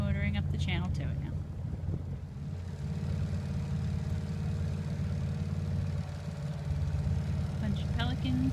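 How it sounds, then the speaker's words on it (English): Steady boat motor drones at a low idle-like pitch while motoring up a channel toward Holiday Harbor Marina on Perdido Bay, with wind buffeting the mic and brief voices near the start and end. "And we're just motoring up the channel to it now."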